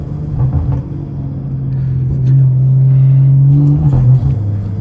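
BMW car engine running with a steady low rumble that swells into a sustained rev in the middle, then drops back, heard close with no talk.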